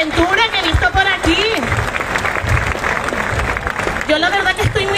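A crowd claps steadily at an outdoor concert of Canary Islands artists in a city park, a dense wash of applause running under loud amplified talk from the stage.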